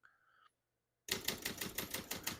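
A 1969 Facit 1620 portable typewriter is typed on after a brief quiet pause, giving a quick run of close, crisp keystrikes in an uneven rhythm.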